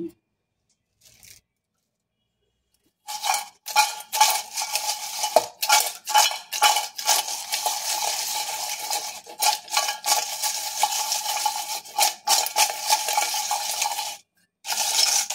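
A spoon scrapes and clinks against a bowl while warm chapati chips are tossed with salt and chili powder, a steady rattling clatter with brief pauses, close and alone.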